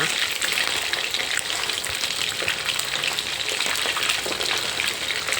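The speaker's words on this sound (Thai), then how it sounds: "ทอดก่อนนะคะ ก็จะทำให้ปลานิลกรอบอร่อย" Tilapia frying in hot oil gives a loud, dense, continuous sizzle and crackle up close, steady across the whole stretch with no talking.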